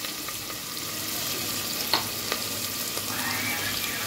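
Prawns frying in a pan for biryani, a dense continuous sizzle with a few light clicks of stirring, close and steady with no voices.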